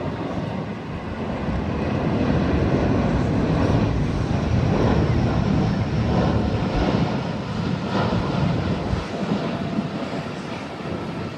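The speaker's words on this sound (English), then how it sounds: "it looks like that 787 is lining up and waiting, about to take off soon" A loud, steady jet engine roar builds and holds, rumbling broadly with no voices, as a Boeing 787 bound for Tokyo powers up for takeoff from Taipei, heard from outside the airport.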